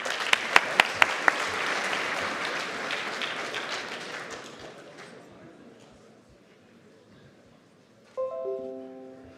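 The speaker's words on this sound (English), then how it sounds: "Let's give a round of applause, please." Applause from an audience at a student hackathon welcoming a company onstage, a dense burst of clapping with a few sharp claps up front that fades out, followed by a short electronic tone.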